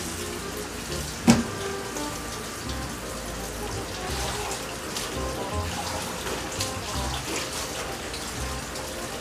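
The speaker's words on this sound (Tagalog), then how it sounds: "buksan natin ang gripo" A tap is opened for rinsing laundry, releasing a steady hiss of running water at moderate level, with a sharp clunk near the start and faint background sounds.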